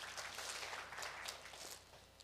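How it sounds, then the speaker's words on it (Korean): Audience applause at a Korean developer talk on Windows 8 application development, a steady broadband clapping that fills the whole moment at moderate distance with no voice over it. "박수 한번 쳐주세요."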